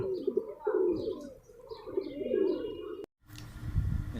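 Pigeons coo in a breeder's loft, several soft rolling calls close by in a short sequence, followed by a brief cut to a duller, rumbling background.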